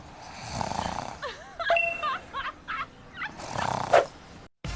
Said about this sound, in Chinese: 我又打呼噜了